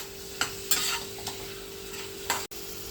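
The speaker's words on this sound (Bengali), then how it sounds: "একটু কাশ্মীরি লঙ্কার গুঁড়ো, আর একটু ধনে গুঁড়ো দিয়ে আমি মশলাটাকে ভালো করে কষিয়ে নেব।" A spatula stirs spice masala of Kashmiri chili powder and coriander powder in a pan, giving a few sharp scrapes over a quiet, low background hiss.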